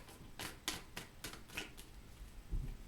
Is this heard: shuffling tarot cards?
yes